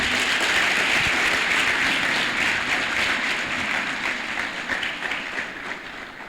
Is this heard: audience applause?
yes